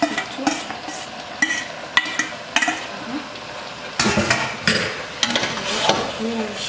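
A spoon stirs amaranth leaves (ndunda) with muambe paste in a pot, giving repeated close scraping strokes and light clinks against the metal, with a faint sizzle underneath.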